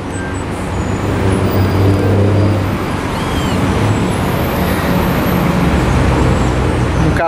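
Scania buses and other traffic pass near a Scania Latin America bus chassis plant, a steady loud rumble of heavy engines and road noise with a brief brake hiss, no talk.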